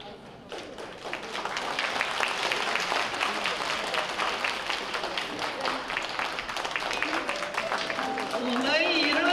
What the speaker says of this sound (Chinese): 我们以热烈的掌声，谢谢他给我们带来的新舞